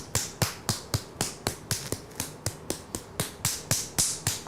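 A hand claps hard against a person's own forehead and cheek, making about fourteen sharp, evenly spaced slaps up close with nothing else around them.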